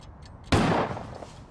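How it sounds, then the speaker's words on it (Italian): A single sharp gunshot cracks out suddenly in a quiet indoor scene, a sudden loud burst that decays over a fraction of a second. "Tipo uno sparo."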